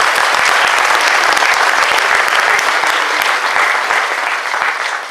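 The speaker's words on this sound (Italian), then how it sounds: "applauso." Concert audience applause after a choir piece at a September festival concert in Lanciano, a dense, loud, continuous ovation that fades slightly toward the end.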